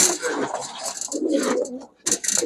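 Low, rolling pigeon coos close up, mixed with a busy rustling hiss, pausing briefly before resuming.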